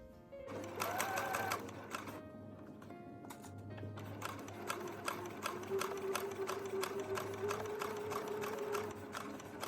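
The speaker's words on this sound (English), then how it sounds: "I'm just going to pin this and then sew the basting stitch by machine" A domestic sewing machine runs a long basting stitch through piping on an 1830s-style dress, steady rapid needle clatter in bursts with brief pauses and a faint low motor hum, close and clear.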